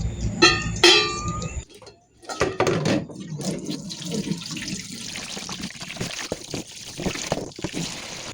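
Running water splashes and trickles for washing aboard a tongkang barge, with irregular bursts, clatter and handling noises at close range.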